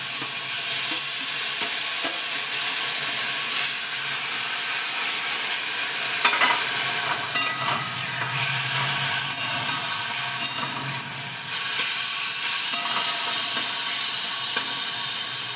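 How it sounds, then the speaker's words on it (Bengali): Mashed, boiled taro flowers frying in a pan: a loud, steady sizzle and hiss with bursts of stirring and scraping throughout, no voices. "আমি যে কচু ফুলগুলোকে মেখে রেখেছিলাম, একটু চটকে রেখেছিলাম সেদ্ধ করে, এটা আমি দিয়ে দিচ্ছি"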